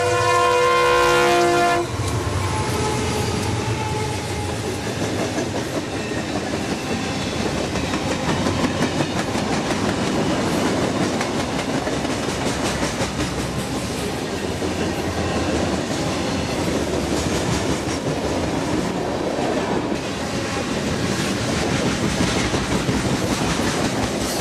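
A northbound freight train rolls past a dirt road crossing in Florida, its horn blaring briefly at the start before a long, loud, steady rumble and clatter of wagons over the rails, continuing close by with no talk.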